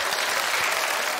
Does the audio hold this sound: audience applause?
yes